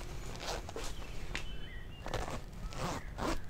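A voice makes quick rasping zip-like bursts, imitating a zipper, repeated several times at close range.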